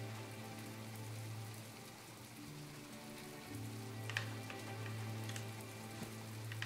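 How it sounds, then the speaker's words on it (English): Rain falling in the farming life-sim game My Time at Portia, a soft continuous patter over a low steady hum, with a few brighter drip sounds near the end. "Oh, it's raining. Okay, we got weather."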